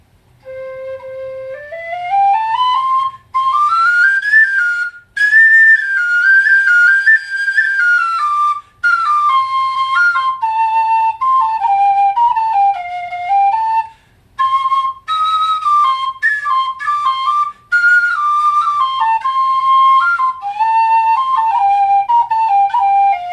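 A soprano C tin whistle plays a continuous melodic tune alone, bright clear tones moving through runs and held notes with a few brief breaths between phrases.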